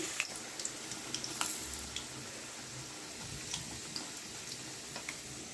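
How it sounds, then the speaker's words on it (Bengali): Potatoes frying in a pan for a chicken dish, a steady soft sizzle with scattered light ticks and pops, moderately quiet and without talk. "আর এখানে মাংস যেটা বানাবো চিকেন, তার জন্য আলুটা ভাজতে দিয়েছি।"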